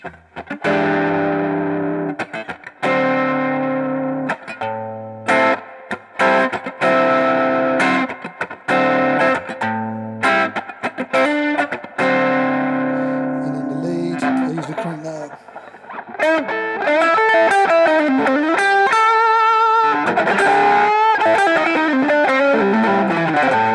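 Distorted electric guitar through a drive pedal plays choppy rhythm chords, then shifts into sustained, heavily driven notes with a thick, warbling effect, loud throughout.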